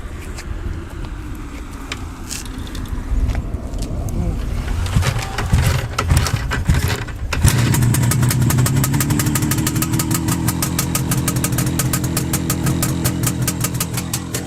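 An IZh Jupiter 6 motorcycle engine cranks with rough sputtering and then catches into a steady, rapid idle that keeps running.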